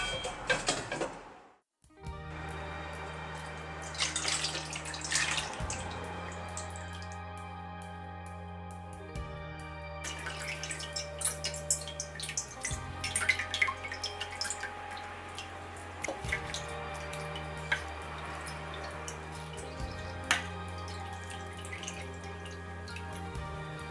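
Dashi broth is strained, with soft liquid trickling and dripping heard faintly alongside gentle background music, the pouring continuing quietly for the whole stretch.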